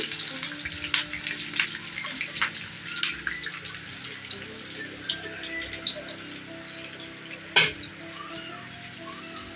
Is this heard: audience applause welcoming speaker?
no